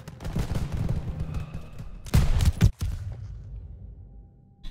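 Gunfire in Call of Duty WW2, a dense rattle of shots fading back, with a couple of loud close blasts midway before the battle noise thins out.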